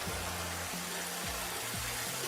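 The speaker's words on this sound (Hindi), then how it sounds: "तो बारिश भी खत्म नहीं है" Steady rain pours down in a continuous, even hiss that fills the whole moment, with low sustained tones and a few gliding pitches underneath and no one speaking.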